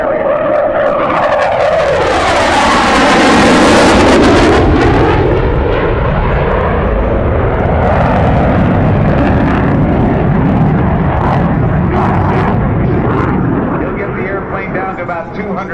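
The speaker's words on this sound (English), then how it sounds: "he'll perform what is known as the carrier break, getting ready, simulating what it's like to land on the deck of an aircraft carrier." An F/A-18C Hornet flies the carrier break at the 2012 NAS Oceana air show, its jet roar loud and sweeping in pitch as it passes and banks overhead, with an announcer talking throughout.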